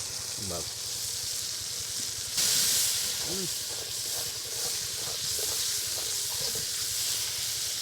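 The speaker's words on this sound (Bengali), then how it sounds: "এই যে মাছগুলো সব বসাই দিচ্ছে চুলোয় দিয়ে দেওয়া হচ্ছে" Tengra fish frying on a stove give off a steady hiss and sizzle, with a brief louder burst of spattering midway, while a person talks nearby over the cooking.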